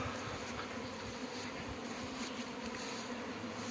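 A dense, steady hum of many bees buzzing around a hive as a swarm begins to gather, a continuous droning texture at moderate loudness with no voices.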